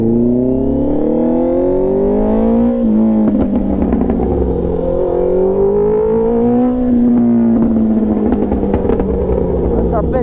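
A 2024 Honda CBR650R motorcycle engine revs steadily, its pitch climbing and falling as it accelerates, loud and close throughout, with a voice talking over it now and then.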